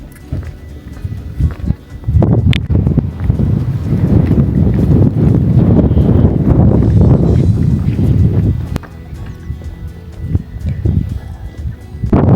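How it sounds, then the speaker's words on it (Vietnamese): Strong wind at Forest Canyon Overlook in Rocky Mountain National Park, high in the mountains, roaring steadily in the microphone with gusts that swell and ease over several seconds, no speech. "Wow, ở trên này gió quá trời gió luôn"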